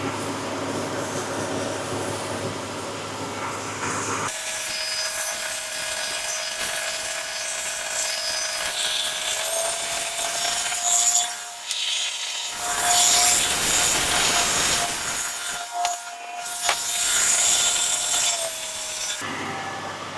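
A rebuilt Ford 300 inline-six engine runs during its first-start cam break-in, a loud continuous roar that shifts in level and character as the throttle is varied up and down.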